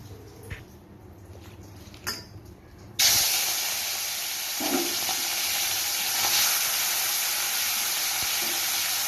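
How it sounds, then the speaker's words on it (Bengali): Small chapila fish are dropped into hot oil in a pan and burst into a loud, steady sizzling hiss that carries on without a break after a few quiet knocks. "চলো এবার মাছগুলোকে ভেজে নিচ্ছি"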